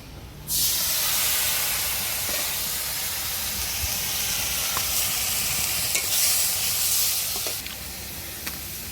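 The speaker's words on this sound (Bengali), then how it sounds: "ওইদিকে মা পেঁয়াজ ভাজছে" Onions frying in a pan in a village kitchen, a loud continuous sizzle that starts abruptly and holds steady with faint scraping, close by and without talk.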